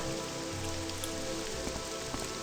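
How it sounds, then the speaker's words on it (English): Steady rain falls in the video game Morrowind, a dense, even hiss of drops on surfaces that runs unbroken throughout. "And into the worst weather in all of Nern. Rain. Fucking rain."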